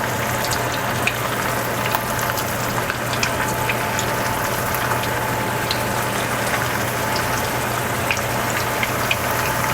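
Meatballs searing in a pan, browning for spaghetti and meatballs, make a steady, even sizzle and hiss that runs unbroken for the whole stretch, fairly close, with no talking.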